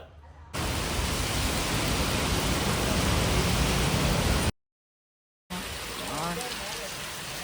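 Heavy rain pours in a dense, steady roar, then cuts off briefly before resuming slightly softer with faint voices underneath, heard while stopped with a vehicle.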